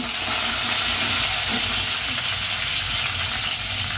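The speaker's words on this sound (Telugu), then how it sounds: "లైట్గా ఫ్రై అవ్వాలండి. లైట్గా ఫ్రై చేసుకునేవి." Dried red chillies frying in hot oil for buttermilk rasam, a steady, loud, close sizzle that continues unbroken without any talk.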